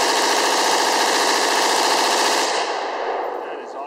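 A CETME AMELI light machine gun fires one sustained, loud, rapid burst up close, the dense rattle of shots running steadily for several seconds before it cuts off and fades.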